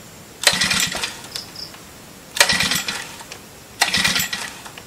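Four-stroke lawn mower being pull-started, three separate sharp recoil-cord pulls with brief rattling engine turnover each, spaced about two seconds apart, close and loud, engine not catching.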